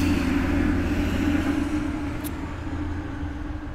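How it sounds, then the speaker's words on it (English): Heavy trucks roar past on a busy city street, a loud continuous engine drone and rumble with a brief hiss of air brakes partway through. "I'm on a very busy street, and so when these big ass trucks come by, it gets so loud"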